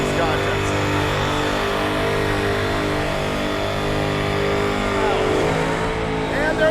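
A car doing a burnout at a Duct Tape Drags and Vice Grip Garage burnout pit, a loud sustained engine roar and tire squeal with a brief pop near the end, amid crowd noise and talk.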